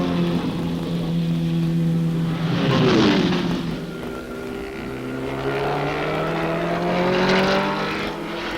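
Porsche and Ferrari race cars at the 24 Hours of Le Mans roar past through the Indianapolis and Arnage bends, loud engine notes rising and falling in pitch as the cars brake, downshift and accelerate away.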